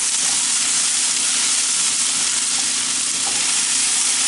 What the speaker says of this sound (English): I'm going to cook these onions for a while